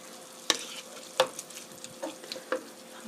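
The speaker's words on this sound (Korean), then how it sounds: "한 컵 정도 넣어서 이렇게 저어 보시고요" A tofu and meat sauce stirred in a pan after a cup of water is added, with four or five distinct clinks of a utensil against the pan over a faint low bubbling.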